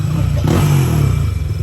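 A Yamaha NMAX scooter with a 63 mm basic setup on a JVT block runs during break-in. Its engine gives a loud, steady, close-up drone with a heavy low rumble that holds throughout.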